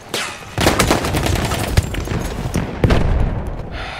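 Rapid gunfire in the Battlefield 1 multiplayer map Fao Fortress, a loud burst of shots with booming impacts cracking repeatedly over a dense battle din, no talking.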